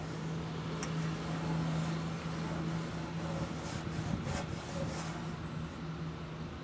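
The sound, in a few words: baking soda sizzling in generator tank acid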